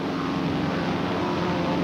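Propeller airplanes fly in formation in a 1953 US Navy training film, giving a loud steady engine drone with no breaks.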